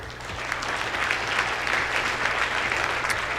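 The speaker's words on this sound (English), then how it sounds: "Thank you. Give them applause." An audience at a river-management talk breaks into steady applause, a continuous wash of many hands clapping at moderate distance, unbroken by voices.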